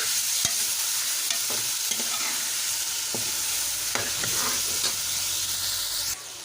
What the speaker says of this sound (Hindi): इसके साथ ही अब हम इसके अंदर प्याज, टमाटर और सब्ज़ मिर्चें डाल देंगे।